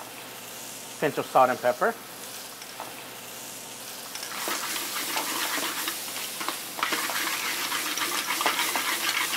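Shrimp, calamari and mahi hit a hot pan and sizzle, a steady hiss that swells louder after a short quiet stretch; a voice speaks briefly early on.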